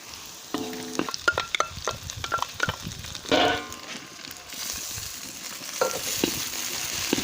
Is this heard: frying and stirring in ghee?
yes